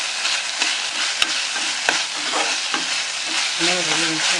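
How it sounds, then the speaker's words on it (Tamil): Tomatoes sauté in a hot pan while a spoon stirs them, a continuous close sizzle with scraping strokes and a few sharp clicks. "தக்காளி இன்னும் கொஞ்சம் வதங்கும்."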